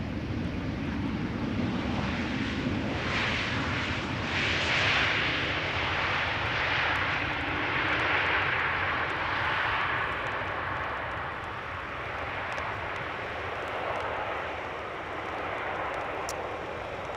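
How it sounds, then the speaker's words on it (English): An Embraer 190 E2 airliner arriving at Amsterdam Schiphol gives a loud, steady jet engine roar that swells and slowly fades over many seconds, with no voices. "number 4, Embraer 190 arriving from Basel"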